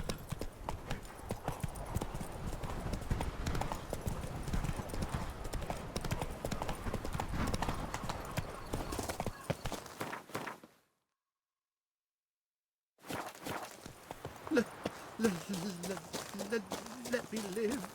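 Horse hooves galloping in The Witcher 3: Wild Hunt, a steady rapid clip-clop at moderate distance over a long stretch, briefly cutting to silence before resuming with game music and background sound.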